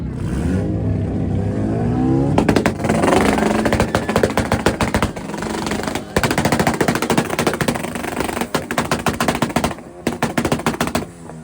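A red Honda Civic on a two-step rev limiter at an import rev battle fires rapid, loud machine-gun bursts of pops and bangs over a revving engine, broken by short pauses.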